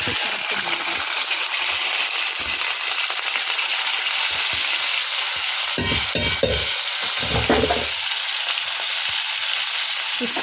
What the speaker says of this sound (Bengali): গ্যাসটাকে হাই ফ্লেমে দিয়ে এটাকে আমি ভাজবো